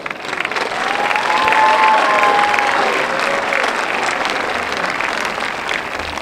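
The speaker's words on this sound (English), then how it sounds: "Let's give this group a round of applause for their efforts." Loud, sustained applause from a high school graduation crowd honoring award winners, dense clapping throughout with light crowd noise and a faint voice underneath.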